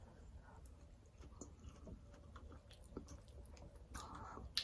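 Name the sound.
chewing a bite of vegetable curry with quinoa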